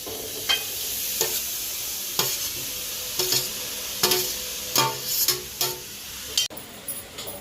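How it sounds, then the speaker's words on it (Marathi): Two kilos of grated carrots for gajar halwa are stir-fried in ghee in a kadhai, giving a steady sizzle punctuated by regular loud scraping strokes of a spatula, close and without talk. "हे गाजर आपण परतून घेऊया तुपामध्ये।"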